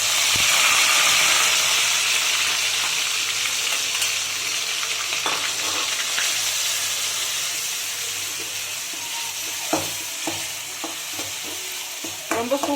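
Ground onion paste frying in a pan for paneer butter masala, a loud, dense sizzle that slowly eases, with occasional stirring scrapes and taps near the end.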